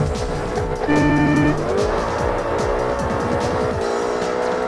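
A Lingenfelter Corvette races in Forza Motorsport, its loud engine revving and shifting up as the tires squeal briefly through a corner, close and continuous with no talking.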